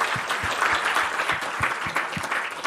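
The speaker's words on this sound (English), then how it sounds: "One more round of applause for Gabby, please." Audience applause for a speaker at an e-exam symposium, sustained clapping from a room of listeners with a few sharper, closer claps standing out.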